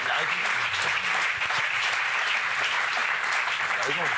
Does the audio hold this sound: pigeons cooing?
no